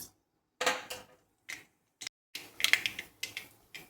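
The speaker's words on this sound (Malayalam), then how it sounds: "നമുക്ക് കടുകിടാം." Mustard seeds dropped into hot oil for ivy gourd thoran crackle and splutter in sharp, irregular pops, some single and some in quick clusters, close with silence between bursts.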